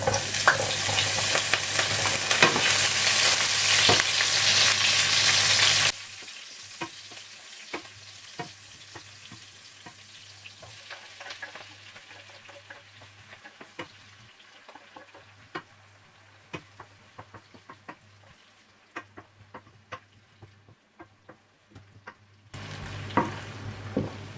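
Ingredients for coconut milk fried rice fry loudly in a pan for the first few seconds, then settle into a quieter, crackling sizzle with scattered ticks and stirring clicks, before the frying grows louder again at the end.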